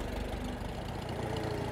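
An old farm tractor's engine idles steadily nearby, a dense low rumble with a fast knocking pulse and constant vibration, no talk over it.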